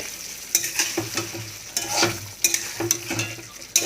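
A spatula stirs pointed gourd with ghee and garam masala powder in a hot pan, producing repeated scraping strokes over a soft, constant sizzle, close and rhythmic with no voices.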